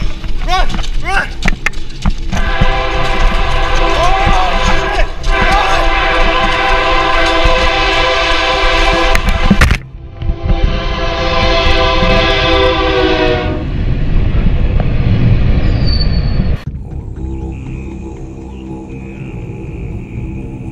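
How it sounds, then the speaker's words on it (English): A train thunders past at close range, a loud sustained roar with horn blasts and rattling wagons that cuts off abruptly, then fades into quieter rumble; frightened people shout briefly at the start. "they did not expect the train to pass at that moment"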